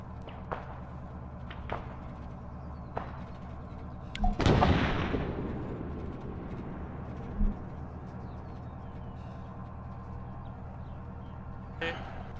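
In Arma 3, a detonation destroys an insurgent weapons cache in Takistan. One heavy blast booms out and rolls away over several seconds, framed by scattered distant gunshots and faint voices.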